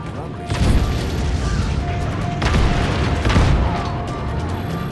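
Gunfire in the open-world action game Just Cause 3: repeated loud blasts and bursts with booming impacts, close and dense over several seconds, with a voice talking over them.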